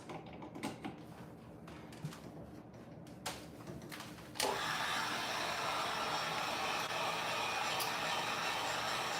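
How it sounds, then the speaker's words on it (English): A heat gun blasts steady, loud airflow over freshly touched-up paint, switching on abruptly partway through and holding a constant rushing roar after a stretch of quieter clicks and handling noises. "I'm gonna hit it with the heat gun and dry it up real quick while I check comments."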